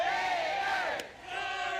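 A Florida Gators crowd at a college softball game against Florida Gulf Coast yells and cheers in a sustained roar, dipping briefly and swelling again.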